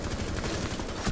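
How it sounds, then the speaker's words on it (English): Gunfire in Rainbow Six Siege, a dense, continuous burst of rapid shots that stays loud and unbroken for about a second, with no speech. "They're shooting you."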